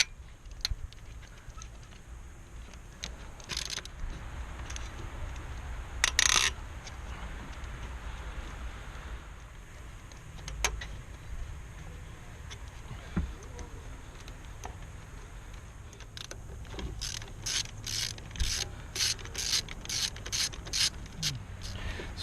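A ratchet removing bolts from the lower intake manifold of an engine in a salvage yard: faint scattered clicks over a low background hum, then a fast run of rhythmic ratcheting clicks near the end.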